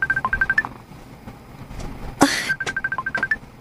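A telephone is dialed in quick series of beeping tones, heard in two runs with a short rustle between them. It sounds close and fairly clear, with no talking.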